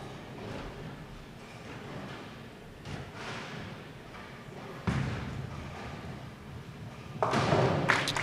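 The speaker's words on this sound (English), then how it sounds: "She wastes no time to shoot the spare." A bowling ball hitting pins on a spare shot at a professional women's bowling tournament finals, heard as dull thuds and a brighter clatter near the end under arena ambience.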